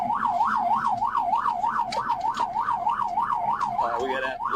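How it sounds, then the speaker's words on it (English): Police sirens wail in a steady rising-and-falling cycle during a high-speed police chase through crowded city streets toward Chicago, loud and close throughout, with brief scattered shouts near the end. "Sirens blared."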